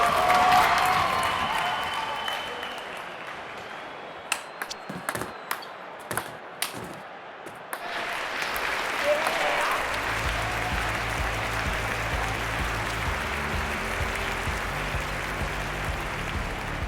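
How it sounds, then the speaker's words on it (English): A stadium crowd in a London 2012 Olympics video game applauding and cheering, loud at first, dipping to a few sharp claps, then swelling again into steady applause and crowd roar. "the crowd is certainly getting fired up. Just listen to the noise."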